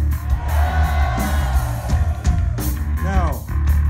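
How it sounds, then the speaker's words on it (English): Crowd at a metal concert at Umeda Club Quattro in Osaka, Japan, cheering and whooping loudly with clapping in a dense, continuous roar under amplified stage sound, with shouts rising from the audience. "Give them a big round of applause."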